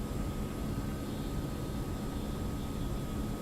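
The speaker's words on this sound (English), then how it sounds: "I wanted to use the RB211s to showcase the new Rolls-Royce sounds coming very soon" Rolls-Royce RB211 jet engines on a Boeing 767 in a flight simulator sound pack produce a steady broad roar with a thin whine, constant and even throughout.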